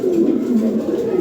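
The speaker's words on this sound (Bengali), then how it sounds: "সর্বোচ্চ সাইজের কবুতর, ঠিক আছে।" A large Lahori Sirazi pigeon of the grey-bar type coos close by in a steady, low, wavering call that runs through the whole moment.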